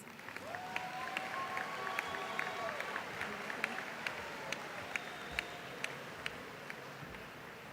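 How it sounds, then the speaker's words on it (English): Audience at a graduation ceremony applauding the graduates, a steady wash of scattered clapping across the hall with a voice speaking over it. "If we can give all these graduates a round of applause."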